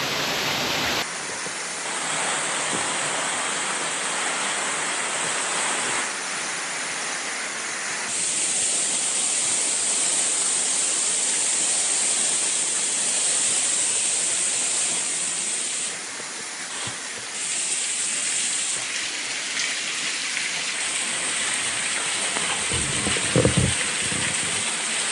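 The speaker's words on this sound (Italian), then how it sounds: "E adesso siamo proprio dietro alla cascata dei Papalini." Steady roaring rush of the Cascata dei Papalini waterfall, heard from directly behind the falling water, fills the whole stretch, a broad continuous hiss that barely varies, with a brief clatter near the end.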